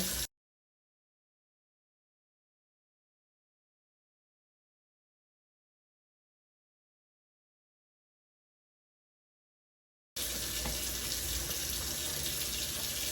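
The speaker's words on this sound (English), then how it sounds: "first off, we started with washing our hands" Hot tap water gushes steadily from a faucet for hand washing after a long stretch of silence, a close, broadband hiss filling the final few seconds.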